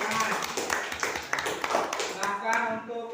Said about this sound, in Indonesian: terima kasih itu kelompok 2 kasih tepuk tangan